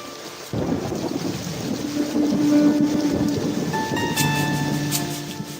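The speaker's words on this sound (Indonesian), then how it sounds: "Tepat tiba di rumah Puput, hujan lebat mengguyur tanpa didahului gerimis." Heavy rain starts suddenly without drizzle, a dense roaring wash of downpour that swells and holds steady, with low rumbles beneath.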